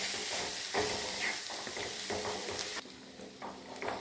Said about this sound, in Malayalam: വീണ്ടും നല്ലതുപോലെ ഒന്ന് ഇളക്കി ചേർക്കുക